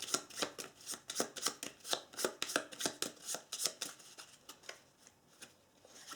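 Close, steady riffle shuffling of a deck of game cards from the Doom second edition board game, with a rhythmic series of crisp flicks and snaps that trail off toward the end.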